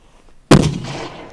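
A single loud, sharp mortar launch during army mortar crew training booms out after a moment of quiet, followed by a rumbling echo that slowly fades.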